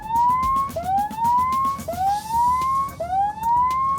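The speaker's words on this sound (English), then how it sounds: "So we're going to sound a little warning alarm." Warning siren on an Airbus transport convoy cycles through four rising wails, each sweep climbing and then cutting off before the next begins, loud and steady over a low road rumble.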